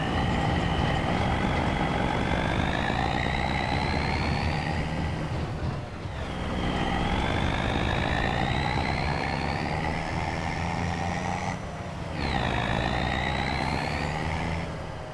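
Tractor engine in Farming Simulator 25 on the flat Riverbend Springs map, a loud continuous diesel drone that climbs steadily in pitch as it revs, drops off briefly near six and twelve seconds with gear changes, then rises again, with no talk over it.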